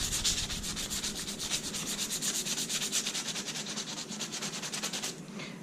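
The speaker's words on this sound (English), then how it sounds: "I prefer wet sanding. It does a way better job." Wet sanding of a car wiper arm by hand, a close, rapid back-and-forth scrubbing rasp in a steady rhythm that runs without a break until a brief slowdown at the end.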